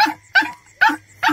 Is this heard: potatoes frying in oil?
no